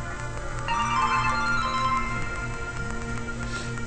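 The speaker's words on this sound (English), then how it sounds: "Oh crap! I got a phone call." A phone rings with an electronic ringtone, a looping melodic tune over a steady synthetic backing that plays continuously and fairly loud for several seconds with no speech.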